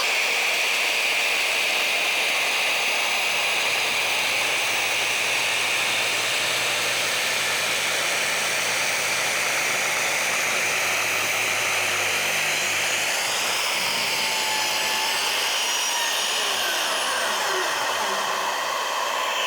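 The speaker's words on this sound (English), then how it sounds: "Go ahead and switch on my Hoover." Steady, loud broadband roar of a Hoover vacuum extracting dust while an Evolution R185CCSX track saw cuts oak, the motor whine holding constant throughout with a slight pitch shift late in the cut.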